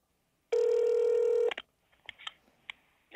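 A telephone line connecting a call to a reporter: one steady electronic tone held for about a second, then faint clicks and low line noise, with no voices.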